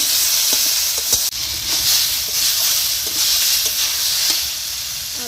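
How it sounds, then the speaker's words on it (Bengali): Potatoes frying in a pan with tempered spices for a curry give a loud, continuous close sizzle and hiss. Occasional stirring scrapes and knocks break through it. "আলুটা ভাজা হয়ে গেছে।"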